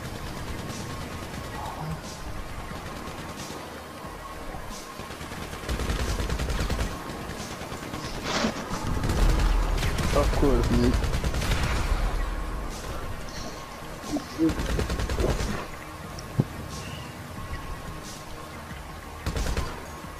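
Gunfire in a shooting video game crackles in dense, rapid bursts, with heavier volleys in the middle and sharp isolated shots near the end, all over a low background hum.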